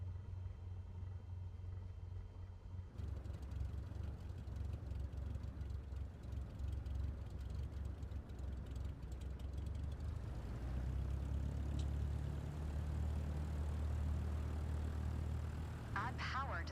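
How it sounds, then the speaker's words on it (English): A small aircraft's engine in Microsoft Flight Simulator 2024 drones as a steady low rumble and swells gradually as the throttle comes up for taxi, while a voice talks over it. "Now, gently increase throttle to get the aircraft moving."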